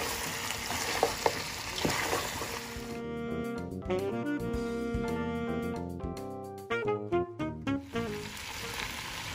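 Mutton being stirred and mixed with roasted masala and spice powder in a hot pan, a busy sizzle with scraping and clinks at first, then faint frying under louder background music with a few distinct knocks near the end.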